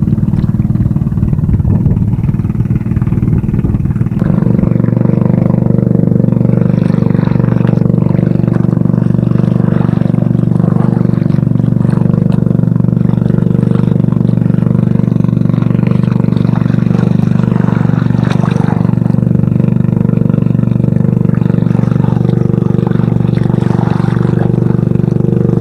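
A boat engine runs steadily out on the water during oyster harvesting, a loud continuous low drone with a constant pitch from start to finish.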